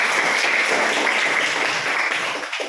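A classroom of students claps together in a burst of dense applause, steady for a couple of seconds before thinning slightly at the end.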